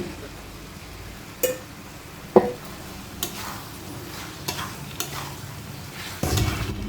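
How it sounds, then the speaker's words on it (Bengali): Boiled chickpeas, pressure-cooked beforehand, are tipped and stirred into fried masala in a pan with a low frying sizzle, a few scraping knocks of the spoon spread across the stretch, and no talk. "তো এবার আমি দেবো সেদ্ধ করে রাখা কাবলি ছোলা"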